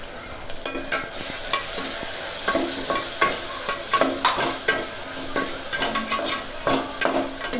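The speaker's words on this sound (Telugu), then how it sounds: "ఈ పేస్ట్ వేసి వాడ్చుకుంటున్నాను అండి" Tomatoes sizzle in a pan with a paste of ginger, garlic and coconut while a spoon stirs them, steady frying hiss under repeated scraping strokes, close and continuous.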